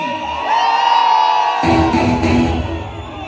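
A festival crowd cheers and whoops loudly and continuously at the Thirunakkara Pakalpooram elephant procession in Kottayam, with one sustained shout over the roar before a broad wave of cheering rises.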